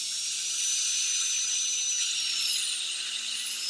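A dental drill burr spinning at ultra speed for a Class II cavity preparation, a steady high-pitched whine with a slight drop in pitch near the end, close and alone.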